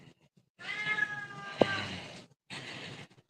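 A pet cat meows in a drawn-out, whining call during rainy weather, followed by a second shorter meow after a brief pause, close and fairly clear.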